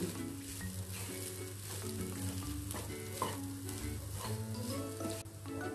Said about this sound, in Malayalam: എല്ലാം കൂടെ നന്നായിട്ടൊന്ന് മിക്സ് ചെയ്യുക. നന്നായിട്ട് ഇളക്കി കൊടുക്കാം.